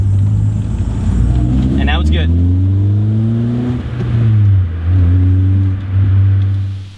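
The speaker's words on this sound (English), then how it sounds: "you're gonna let go of the clutch and it's gonna turn the car on." A manual-transmission car's engine catches and starts after being rolled in second gear with the clutch released on a dead battery, its steady low hum rising and settling while a person talks over it close by.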